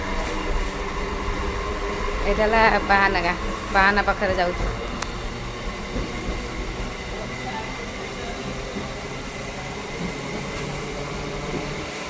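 A train runs through the night near Bahanaga, giving a steady, loud rumble that fills the whole stretch, with voices talking briefly over it early on.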